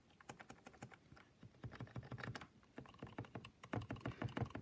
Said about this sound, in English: That's the keyboard wobbling.